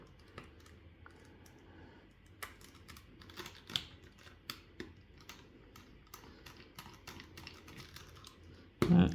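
Small screw being worked loose from the battery compartment of an Xbox controller, a quiet run of faint, scattered clicks and light ticks that ends with a brief louder knock.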